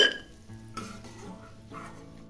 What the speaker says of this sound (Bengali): বাদামটা নাড়াচাড়া করে দু তিন মিনিট সময় নিয়ে ভেজে নিব